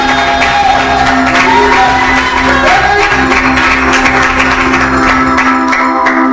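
A church congregation at a French-language prayer service cheers and shouts praise to God, a loud, steady crowd roar with whoops over music, lasting throughout.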